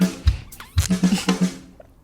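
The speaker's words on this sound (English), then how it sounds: "That was the sound of me drinking my lemonade." Someone drinks lemonade up close, with several gulps and swallows, soft wet mouth sounds and breathy sips in a quick, uneven rhythm.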